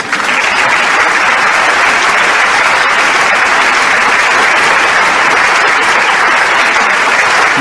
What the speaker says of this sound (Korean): 천지인 참부모님께는 감사의 박수를, 그리고 우리 신랑 신부들에게는 축하의 박수를 부탁드리겠습니다